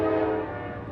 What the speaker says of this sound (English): This is train Q201, a westbound mixed freight.